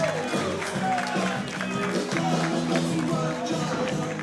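A pro wrestling crowd cheers and roars in reception for a fan-favorite wrestler, a dense, steady wash of voices with scattered claps and shouts, while a commentator speaks over it.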